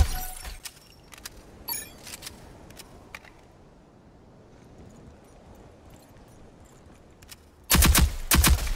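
Turrets fire in the tactical shooter Rogue Company: short, sharp gunfire bursts at the start, a long stretch of quiet ambience, then a loud, close rapid volley to finish.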